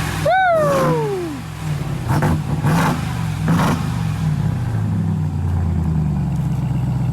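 The engine of a wrecked 2021 Ram TRX pickup truck, running a little rough, revs up with a sharp rising-and-falling roar, then settles to a low, uneven idle with some clatter, under excited voices.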